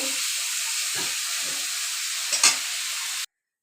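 Steady loud sizzling of fish frying in hot oil, with a few soft clinks and scrapes, ending abruptly.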